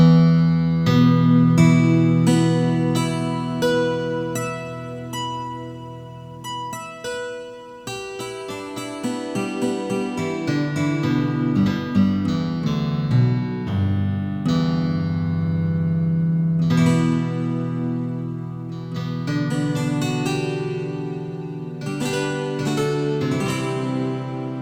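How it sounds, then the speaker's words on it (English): Waldorf Quantum synthesizer playing a simulated 12-string guitar preset, a doubled, slightly detuned string tone, in a busy strummed and picked passage of chords and runs, steady and fairly loud with no talking. "very slightly detuned string sound to simulate a 12-string guitar basically."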